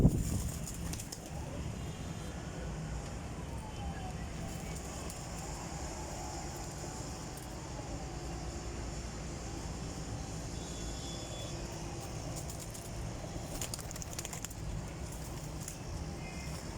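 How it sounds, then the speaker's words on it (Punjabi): Teddi pigeons in a loft, with wing flaps and faint rustling over a steady, noisy background hum throughout, no voices. "ਮਾਸ਼ਾਅੱਲਾ ਸਾਰੇ ਅੱਛੇ ਕਬੂਤਰ ਹੈਗੇ ਨੇ।"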